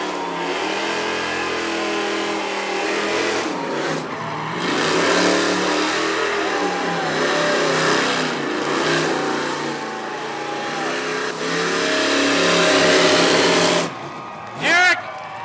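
Race cars, including a Corvette and a Dodge Charger, roar and rev loudly at Rockford Speedway, engine pitch rising and falling as they pass, with an announcer talking excitedly over the noise.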